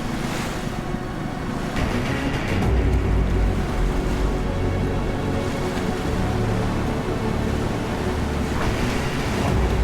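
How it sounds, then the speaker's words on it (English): Waves swish and wash around landing craft whose engines grind low and steady beneath, a continuous rumbling roar at sea with wind buffeting throughout. "silence fell, apart from the grind of the landing craft engines and the swish of the waves"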